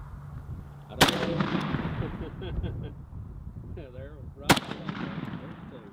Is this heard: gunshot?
yes